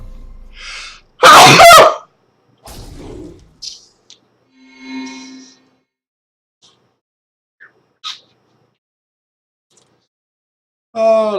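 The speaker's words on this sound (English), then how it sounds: "And I have to sneeze." A loud, sharp sneeze with a quick intake of breath before it, followed by quiet shuffling and small noises, then a voice starts.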